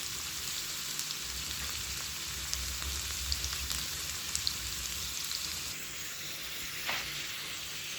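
Potatoes roasting in a frying pan for a Kenyan pilau meal give a steady, close hiss of sizzling oil with scattered small pops and crackles. The sound holds evenly throughout.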